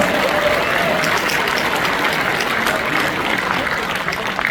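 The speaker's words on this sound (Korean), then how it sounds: "여러분 큰 박수 부탁드립니다" A large hall crowd at a Democratic Party members' rally in Naju gives loud, dense applause for the mayor, an unbroken roar of clapping that stays strong and close from start to finish.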